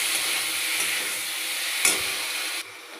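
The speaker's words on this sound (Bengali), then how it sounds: "দেখো, কষিয়ে নিচ্ছি" Small fish curry being sautéed in a pan, a steady frying hiss with faint stirring scrapes, one sharper clink midway, then the sizzle drops abruptly quieter near the end.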